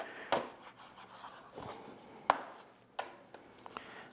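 A knife trims loose flaps off pork spare ribs to a St. Louis cut for Memphis-style ribs, giving a few sharp close cuts and taps against a board, spaced irregularly with quiet gaps between.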